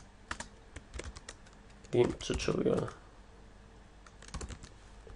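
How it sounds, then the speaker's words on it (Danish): Computer keyboard typing while editing an HTML file in the Vim editor on Linux: quick scattered key clicks with a denser burst in the middle, heard close and moderately loud, with some talking. "så kan vi slette test og skrive"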